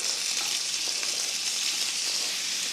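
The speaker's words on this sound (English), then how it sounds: "as I let my chorizo fry" Mexican chorizo, casings removed and broken into small chunks, fries in a pan with a loud, dense, steady sizzle and crackle close up, no talk.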